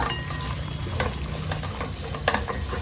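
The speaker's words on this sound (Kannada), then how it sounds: "ಹಾಗೆ ಒಂದು ಅರ್ಧ ಚಮಚದಷ್ಟು ಜೀರಿಗೆ ಸೇರಿಸ್ಕೊಂಡು ಫ್ರೈ ಮಾಡ್ಕೊಳ್ಳೋಣ." Cloves, cardamom and cumin seeds sizzle in a hot pan for a spiny gourd gravy, a short steady crackling fry with a few stirring scrapes and clicks.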